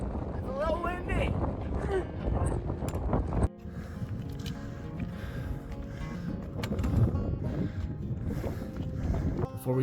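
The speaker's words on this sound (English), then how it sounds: "It's a little windy." Gusty wind buffeting the microphone on a mountain trail in the Dolomites, a loud, constant rumble with people's voices talking close by underneath.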